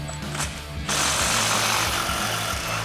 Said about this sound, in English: We're going to grab our impact with a 21mm socket